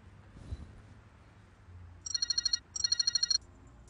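Telephone ringing in a home with two bursts of rapid electronic trills, each a quick series of pulsed beeps, fairly loud against a quiet room.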